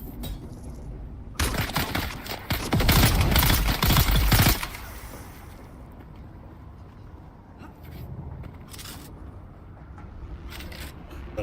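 Rifle gunfire in the video game Dune: Awakening: a loud, dense burst of shots lasting about three seconds, then quieter scattered game sounds and background noise.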